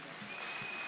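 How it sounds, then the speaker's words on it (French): Applause from a church congregation during a Sunday sermon, a brief, steady patter of clapping at low level with no voices over it. "Des acclamations."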